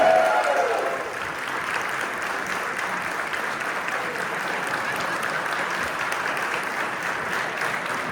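A crowd at an award evening for local culture and sports contributors applauds steadily, a dense sustained wash of clapping that starts loud and holds evenly for several seconds.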